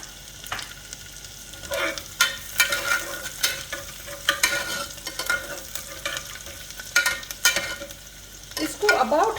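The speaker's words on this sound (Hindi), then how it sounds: "we will add the cumin seeds, allow them to splutter a little" Cumin seeds spluttering in hot ghee for vegetable oats khichdi, crackling and popping in quick irregular bursts over a soft, steady sizzle, close and fairly quiet.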